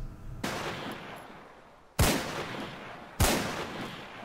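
Chiappa Rhino revolver fired in the Breaking Point game, three loud, sharp shots spaced about 1.5 seconds apart, each followed by a long echoing decay, no talking.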